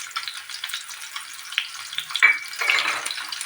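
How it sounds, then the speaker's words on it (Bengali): Chopped onion frying in hot oil with black cumin, a steady close crackle and hiss that swells into a louder sizzle toward the end, with a few soft stirring scrapes. "এবার আমি পেঁয়াজটাকে ফ্রাই করব"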